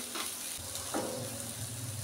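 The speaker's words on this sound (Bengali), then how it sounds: "উচ্ছেটা আর একটু ভাজা হবে, আরও ভাজা হবে" Bitter gourd frying in a pan for a bitter mung dal, giving a steady soft sizzle with faint stirring scrapes, fairly quiet and with no talking.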